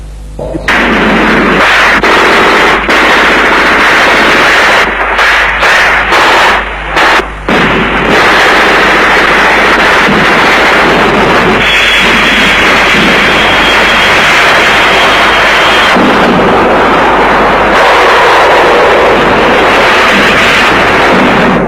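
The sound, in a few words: artillery bombardment and gunfire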